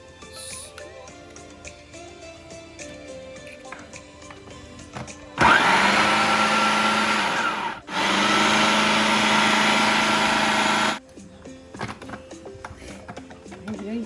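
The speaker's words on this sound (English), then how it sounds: "I'm going to blend it in the blender" A blender blending egg with green chilies and chopped coriander whirs loudly in two bursts of several seconds each, separated by a brief pause, with quieter kitchen sounds before and after.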